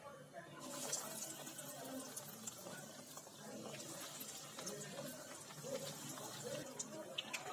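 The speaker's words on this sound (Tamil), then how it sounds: "நம்ம பிரெட்டை வந்து பொரிச்சு எடுத்துக்கலாம்" Bread pieces for bread halwa fry in hot oil over medium heat, giving a continuous, hissing crackle at moderate distance with scattered sharper pops.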